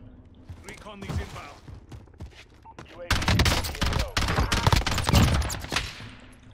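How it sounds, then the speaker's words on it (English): Loud, dense automatic gunfire in Call of Duty Warzone, set against quieter bursts of shots, with voices talking in the background. "Is that you shooting?"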